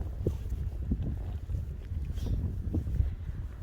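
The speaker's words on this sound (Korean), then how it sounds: "오늘 바람 너무 세가지고" Strong wind blowing outdoors, a low gusty rumble buffeting the microphone throughout, fairly faint and continuous.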